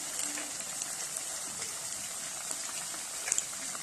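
Puff-puff dough frying in hot oil gives a steady, close bubbling sizzle with soft crackles and no voices.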